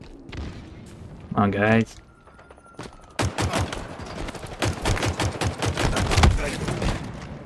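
Gunfire and rocket launcher explosions in Halo Infinite multiplayer, a dense run of sharp shots and booms from about three seconds on, loud and close, with players talking over the fighting.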